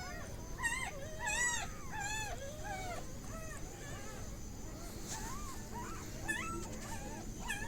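A small puppy whimpers and yips in repeated high, wavering whines over steady background noise, the cries coming close and fairly loud in short clustered bursts.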